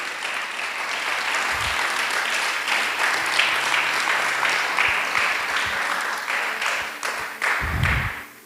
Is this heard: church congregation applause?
yes